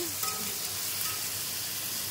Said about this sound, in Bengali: পেঁয়াজ টমেটো লঙ্কা ভাজা ভাজা হচ্ছে